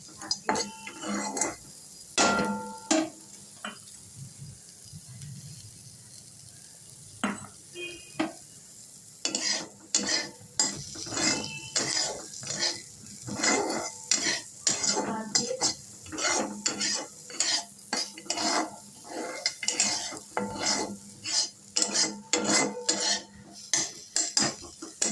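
Chopped onion frying in a pan for pasta, a low sizzle under frequent clinks and scrapes of a utensil against the pan, stirred in bursts nearby, with no voices.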